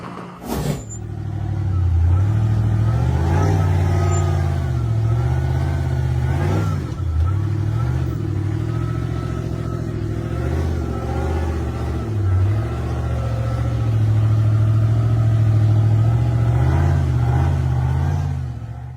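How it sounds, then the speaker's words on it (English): A white pickup truck revs its engine hard while driving off-road over a bumpy curb on a sandy hill-climb track, a loud continuous roar rising and falling with several surges of throttle. "The white pickup truck revved its engine and sped over the bumpy curb on the sandy road"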